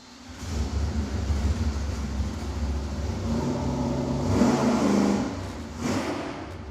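A V8 engine on a dynamometer revs in one long sustained 300 RPM-per-second pull, its roar building louder and higher before dropping away.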